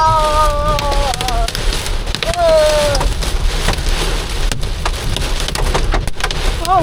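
Hail pounds steadily during a storm while driving near a tornado warning, a loud dense rattle throughout with people talking and exclaiming over it.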